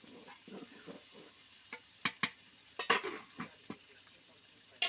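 Food stirred and fried in a pan during home cooking, a soft sizzle under scattered sharp scrapes and clinks of a utensil against the pan, close and fairly quiet with no talk.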